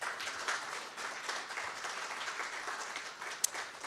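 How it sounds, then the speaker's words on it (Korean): At a financial crime prevention seminar, an audience claps to welcome a guest speaker, a retired judge and law college chairman. The applause is a steady, moderately loud patter that continues throughout with no talk over it. "여러분 박수로 맞이해 주시기 바랍니다."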